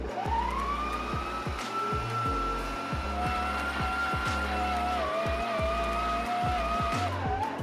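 Stand mixer kneading brioche dough at speed 1, a continuous motor whine with a rhythmic thumping and knocking as the dough slaps around the bowl, close and steady throughout.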